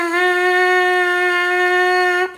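Lips buzzing into a trumpet mouthpiece played on its own, producing one bright, steady sustained pitch that holds evenly for over two seconds and then stops cleanly, close and loud with no voices.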